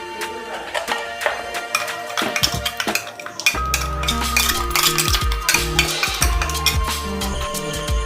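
Ground masala paste being rubbed by hand onto fish on a plate for a fish fry: close, wet squelching and smearing with scattered light clinks against the plate, continuous and steady.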